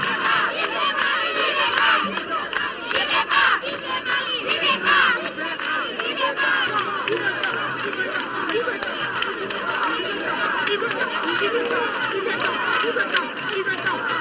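A large crowd in Bandiagara, Mali, cheers and shouts for the head of state, with dense overlapping voices, loud whoops and chanting sustained throughout.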